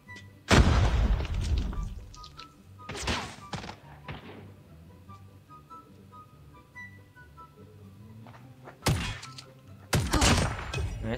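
Shotgun blasts in the mobile shooter Call of Duty Mobile: a few loud booming shots spaced irregularly, with quieter game sounds between them.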